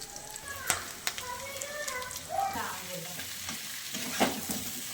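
Mutton sizzles in a hot pan while being stirred, with scraping and clinking from the utensil and a soft, continuous frying crackle at close range.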